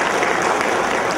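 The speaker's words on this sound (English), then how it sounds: "So a round of applause for Professor" Applause for a retiring college principal at the farewell of his service at a commerce college, a dense steady wash of clapping from a crowd filling the hall throughout.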